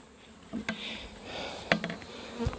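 Honey bees buzz around a hive's bottom board as they clear off it, a close, continuous hum with individual insects passing near the microphone in short louder swells.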